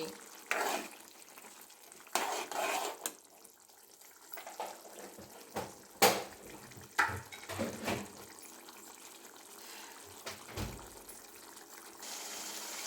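Dried fish and gongura curry cooking in a pan, a steady soft sizzle and bubbling with occasional stirring clatters and scrapes, close by with no voices.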